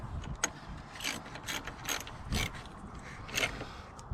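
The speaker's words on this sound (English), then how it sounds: "Let me grab my ratchet real quick." A ratchet tightens a connection on a car during a PCM swap from a salvage yard. It gives about seven separate clicking bursts at an uneven pace, close by and fairly quiet, with no talking over them.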